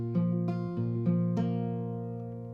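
An acoustic guitar plays a picked root-position chord pattern from the intro of a song. Several notes are struck in an even rhythm and ring together, then fade out near the end.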